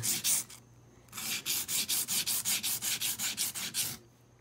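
A knife blade is scrubbed back and forth on a sharpening stone: a few rasping strokes, a short pause, then a quick run of about fourteen even, rhythmic gritty passes, close and fairly quiet.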